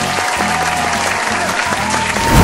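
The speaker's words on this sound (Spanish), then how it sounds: "Aplausos para Ben de la Creme y su diseñador." An audience breaks into loud, steady applause with dense clapping, while a low rhythmic music thump and a held tone sit underneath and a swell rises at the end.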